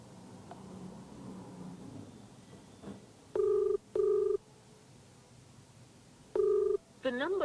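Telephone ringback tone heard while placing a call to a university vice-chancellor, in three long steady beeps with pauses between them, following faint background noise and ending in a short automated busy-line jingle.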